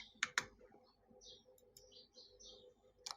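Computer mouse clicks while working in a Corel Draw curve tool, a couple of quick sharp clicks at the start and one more near the end, faint and close, with soft chirpy background sounds between.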